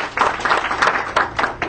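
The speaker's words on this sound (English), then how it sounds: "so round of applause for them" Brief audience applause at a governing board meeting, a moderate patter of clapping hands heard at mid distance throughout.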